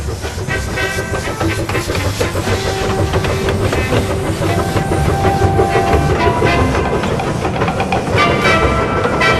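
A loud steam train hauling coal wagons rumbles past nearby in New Zealand, with rhythmic clickety-clack of wagons over the rails, steady chuffing and hiss, and metallic squeals throughout.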